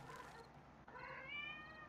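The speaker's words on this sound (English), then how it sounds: "My cat speaks Russian" A pet cat meows softly and at close range, giving a couple of short calls with a rising, wavering pitch and no other sound.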